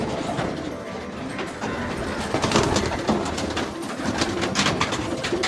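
Pigeons in a home pigeon loft at Payyoli, Kozhikode, give steady cooing and rustling, with a dense, continuous mix of bird sounds close by and no talk.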